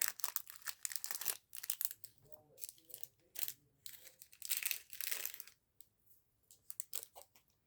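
A small plastic packet of screws gets handled up close, giving bursts of sharp crinkling and rustling broken by short silent gaps, with no talking.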